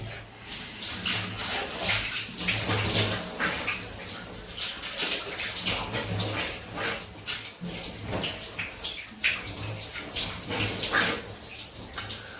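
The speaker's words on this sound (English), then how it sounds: "my noisy cold, ice cold Northumberland water, which is running into my bathtub" Ice-cold water gushes steadily from a tap into a bathtub, a constant close splashing rush that fills the whole stretch.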